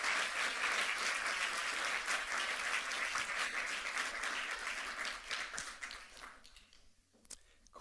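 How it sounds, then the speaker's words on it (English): An audience applauds after a design talk at the MTD2012 conference, a dense roomful of clapping that holds steady and then thins out into a few scattered claps near the end. "you can give me applause now if you"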